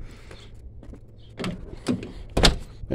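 A door on a 1990 Chevrolet S10 pickup swings and shuts, with a few close, sharp knocks and a final solid thump over a faint background rumble.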